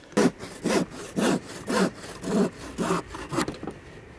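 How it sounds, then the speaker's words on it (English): A hand saw cuts a piece of wood for the base of a bird box, with seven steady back-and-forth strokes in an even rhythm, close and clear, and no talking. "mark out where you need to cut it so that it fits nice and snug inside your bird box"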